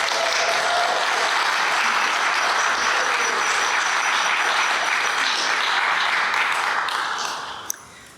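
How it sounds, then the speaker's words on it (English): An evening audience at a literature forum in a state library applauds a band in a loud, dense round of clapping that holds steady and then fades out near the end. "give them a round of applause"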